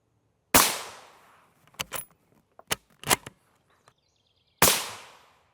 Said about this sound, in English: We have 4 more rounds of M855A1 that we're going to shoot at this plate